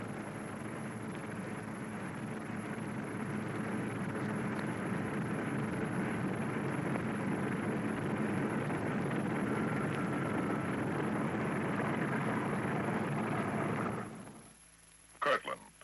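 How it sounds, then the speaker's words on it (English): A bomber aircraft taxis off to wait for its takeoff time, its engines a loud, steady drone that holds for several seconds and then drops away, leaving brief knocks in the quiet. "With bomber ready, it moves off to wait its takeoff time under double guard."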